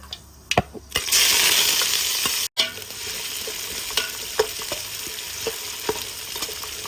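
Mustard seeds, fenugreek, ginger, garlic and cumin frying in hot oil, starting with sharp crackles, then a loud hissing surge that cuts off abruptly, followed by a steadier sizzle dotted with popping seeds.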